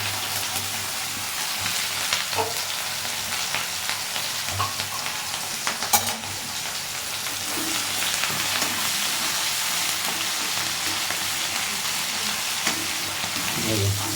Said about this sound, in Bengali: লাল লাল করে ভাজা হোক।